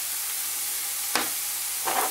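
Turkey meat fries lightly in a pan with a steady, even sizzling hiss, broken by a single quick stirring scrape near the middle and another brief one at the end.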